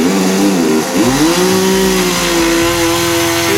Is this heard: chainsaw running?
yes